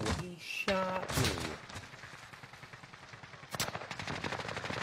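Gunfire in the Call of Duty video game, with a couple of sharp shots near the start and another burst later, against a busy game background and brief voices.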